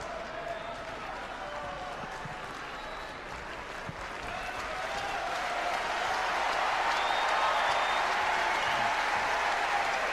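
A tennis crowd at a Sampras–McEnroe match applauds steadily, the clapping swelling louder partway through and continuing as a dense wash, with a commentator's voice faintly beneath at the start.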